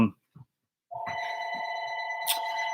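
A telephone rings with a steady electronic bell tone after a couple of faint taps, loud and close, continuing unbroken to the end.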